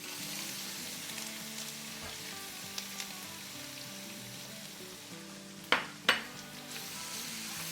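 Crushed ginger, garlic and green chillies sizzle steadily in hot oil in a preheated pan for a chicken stew, a constant close frying hiss with two sharp metallic clinks from a spoon near the end.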